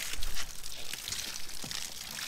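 Water pours from a shower in a brief, moderately loud burst of broadband hiss and splashing, running steadily with slight fluctuations and no talk.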